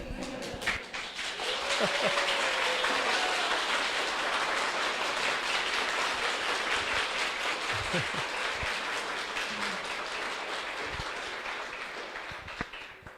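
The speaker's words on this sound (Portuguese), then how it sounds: "Eu sei que as palmas que vocês deram é para tudo que eu disse." Audience applause in a hall rises quickly and holds as a dense, steady wash of clapping for about ten seconds before slowly thinning out.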